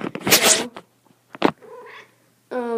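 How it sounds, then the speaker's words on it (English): A pet cat indoors gives a few short vocal bursts, separated by gaps, ending in a clear sustained meow close to the microphone. "My cat, Rosie, again, always comes in right when I'm about to film."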